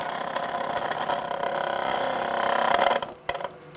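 Wood lathe spinning an out-of-round wooden piece, giving a steady loud broadband whirring and rubbing drone that swells slightly before cutting off near the end, with no talk.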